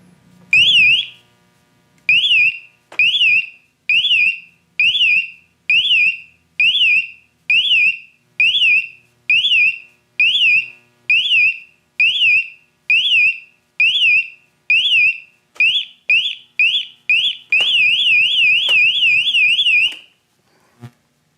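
A loud electronic delayed-egress door alarm repeats in regular pulsing bursts, each a rising-falling warble, then speeds into a rapid continuous warble near the end; no talking.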